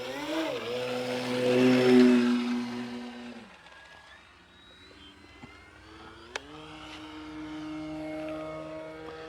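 A Horizon Hobby Carbon Z Cub SS RC airplane with a 2.1 m wingspan flies overhead, its electric motor whining and shifting pitch as it passes, swelling louder then fading and rising again at moderate distance.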